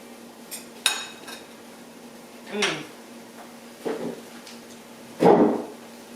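Savory bread pudding with ham and egg is served onto a plate in a kitchen, a few separate clinks and scrapes of utensil against dish, close and moderately loud.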